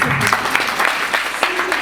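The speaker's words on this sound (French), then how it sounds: "Applaudis." Audience applause at a motivational coaching conference, a steady wash of clapping that fills the short moment at moderate loudness.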